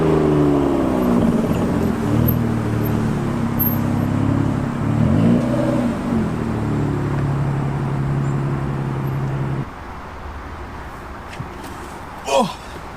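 A deep, rumbling sports car exhaust at close range swells with a couple of rev blips, then drops away to quiet background hum.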